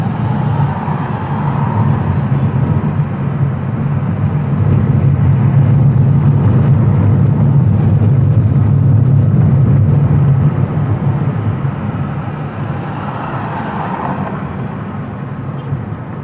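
Steady vehicle traffic passing near Masjid Nabawi after the evening Maghrib prayer, a loud continuous low rumble of engines and tires that swells and fades as cars go by, with no talking.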